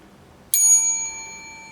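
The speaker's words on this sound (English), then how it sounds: "Do I ring this bell for champagne?" A single handbell is rung once for champagne, a sharp bright strike that rings on with a long, slowly fading tone in a quiet room.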